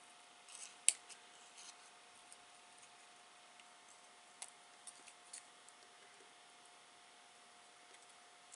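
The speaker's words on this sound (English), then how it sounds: "Let me just trim around it." Scissors trimming around paper for a gift box, a few faint, quiet snips and clicks spread out over several seconds in a quiet room.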